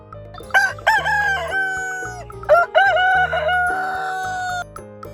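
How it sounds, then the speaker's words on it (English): A rooster crows twice, loud and close, each long drawn-out call rising then trailing off, over a soft music backing. "Chicken."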